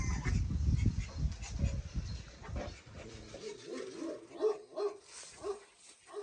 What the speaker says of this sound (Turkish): Çok korkunç ya bu köpek